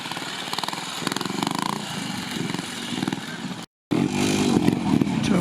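A big trials motorcycle picks its way through a difficult section at a club trial, its engine blipping and revving in uneven bursts with clattering, loud and fairly close, broken by a brief gap.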